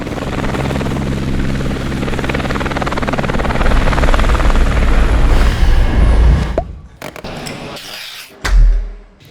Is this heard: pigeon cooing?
no